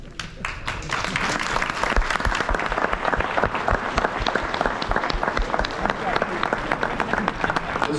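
Crowd applause honoring catering staff at a gathering, many hands clapping continuously and energetically after a brief quieter start, with some voices mixed in.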